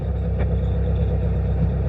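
A fuel-injected engine lugging at about 1,000 RPM in fourth gear through a roundabout, giving a steady low, deep drone that stays smooth and even without dropouts.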